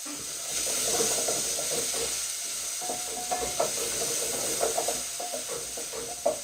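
Onions frying in a pan for Kenyan-style red cabbage, a soft sizzle with light stirring clicks, and a person talking over it.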